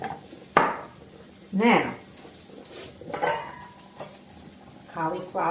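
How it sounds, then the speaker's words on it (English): Cauliflower and cabbage stir-frying in a pan, with soft sizzling under scraping stirs and clinks of a utensil against the pan, close up while someone speaks briefly. "cauliflower is cooking down"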